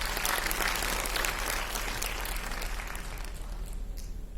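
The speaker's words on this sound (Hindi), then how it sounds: "एक बार जोरदार तालियां फिर से हमारी टीम के लिए।" Loud, steady applause from a crowd at a police family welfare society event, sustained clapping throughout that thins slightly toward the end.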